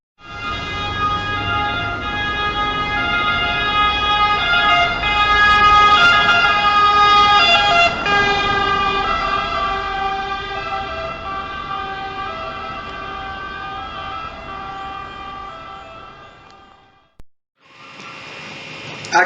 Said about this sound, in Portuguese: O som, quando a ambulância está longe de você, ou seja, quando ela está se aproximando de você, o som fica mais agudo